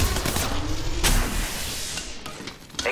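Gunfire in Apex Legends Mobile during a massive squad fight, with rapid bursts of shots and sharp loud cracks near 1 and 2.8 seconds over a dense, busy battle din.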